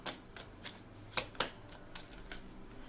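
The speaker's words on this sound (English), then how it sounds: "I'm going to draw some advice cards here" Tarot cards being shuffled for an advice draw, a run of soft papery riffles and flicks with a few sharper snaps near the middle, close and quiet, with no voice.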